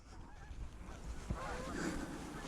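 Geese honk over a frozen field, faint and distant cackling calls scattered over a low wind-like rumble, with a brief thump near the middle.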